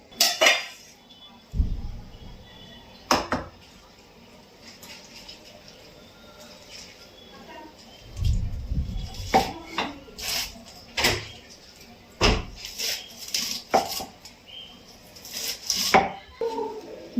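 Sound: chopping vegetable with a knife

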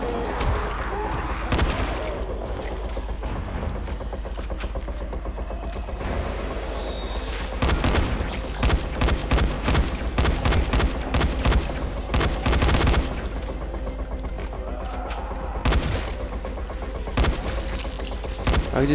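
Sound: gunfire in a video game

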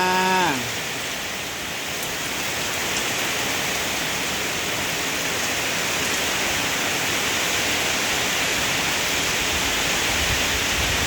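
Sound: rain falling

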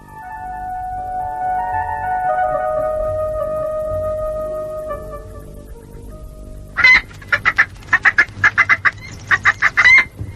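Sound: hen clucking

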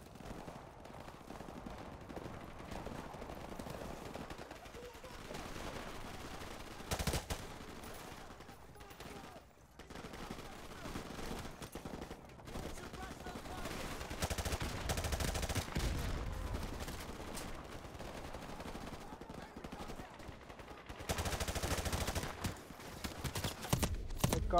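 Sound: gunshots in Call of Duty Modern Warfare Remastered video game

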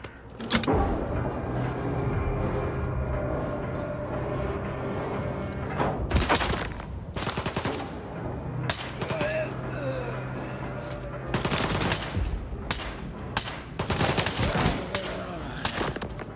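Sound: gunfire in S.T.A.L.K.E.R. 2 video game

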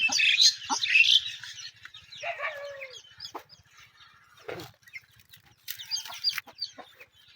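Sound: chickens clucking

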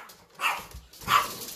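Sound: dog barking

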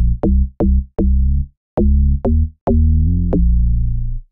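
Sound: Dark Attack bass synth preset, Logic Pro X EFM1

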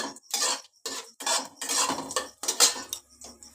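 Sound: stirring panch phoron spices in a pan

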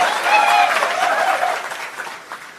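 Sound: crowd applauding at a political speech

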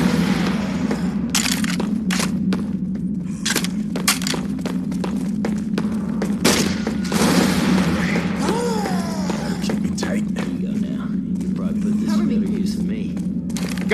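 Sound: grenade launcher firing in video game Silent Hill

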